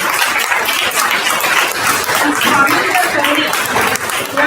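A seated audience at a Marathi devotional katha gathering applauds to thank the host, a dense, steady wash of clapping hands that fills the whole stretch at even loudness, with no voice rising above it.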